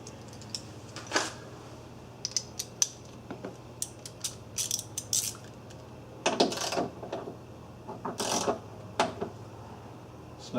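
A hand ratchet clicks in short irregular runs while tightening bolts on a rear door lock assembly of a Volkswagen Jetta, close and crisp over a steady low hum, with small knocks and creaks between strokes.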